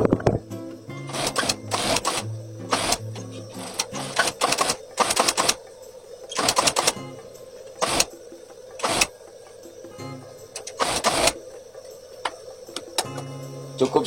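A sewing machine stitches the lining of a jacket sleeve in short, repeated bursts of rapid mechanical whirring separated by brief pauses, loud and close with no voices.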